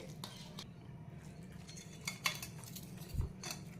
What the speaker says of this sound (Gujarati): હવે દહીંને ગોળને બરાબર મિક્સ કરી દેવાનું પહેલાં, એટલે ગોળ એમાં ઓગળી જાય.